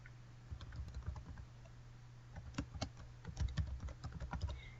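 Rapid typing on a computer keyboard while entering a short message in a website builder, with irregular bursts of close, crisp key clicks over a low steady hum.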